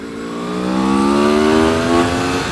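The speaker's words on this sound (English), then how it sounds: "I can't say enough good things about the motor. I mean, just the sound of it." A 2013 Aprilia Tuono V4 APRC sport motorcycle's V4 engine revs hard and climbs steadily in pitch, loud and close, a throaty mechanical roar with no voices.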